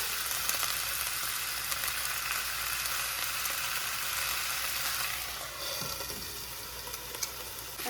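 Butter sizzles steadily in a hot pan with chicken and green beans, a dense continuous frying hiss that eases slightly near the end, with no talking.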